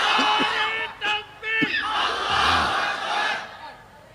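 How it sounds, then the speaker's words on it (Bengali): A large crowd at an Islamic religious gathering roars the takbir together in loud, sustained chanting, swelling in waves and answering a leading voice over about four seconds. "দেখি মাঝখান থেকে দাঁড়িয়ে একজন তাকবীর দেন তো দেখি।"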